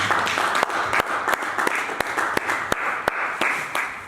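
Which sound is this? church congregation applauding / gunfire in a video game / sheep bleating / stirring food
church congregation applauding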